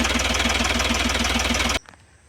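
A vehicle engine runs loud and steady with a rhythmic knocking beat after radiator flush is added, then cuts off abruptly near the end, leaving quiet.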